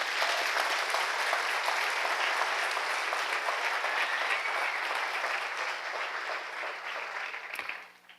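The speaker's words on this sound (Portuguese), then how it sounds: "uma salva de palmas para todo mundo que fez." Loud, steady applause from a live audience at a motivational talk, sustained clapping that fills the room for several seconds before tapering off at the end.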